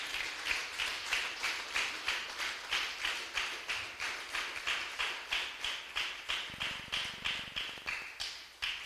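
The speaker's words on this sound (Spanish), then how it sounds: "Denle un fuerte aplauso al Señor" A church congregation claps in steady unison, a loud rhythmic beat of many hands repeating roughly twice a second for the whole stretch, with no talking over it.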